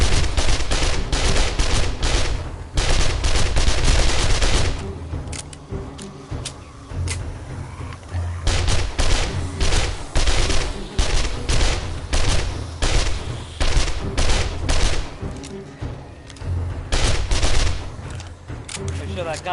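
Automatic weapons fire in the PS5 game 7 Days to Die, with loud, rapid bursts of gunshots repeating in clusters and short pauses between them over about twenty seconds.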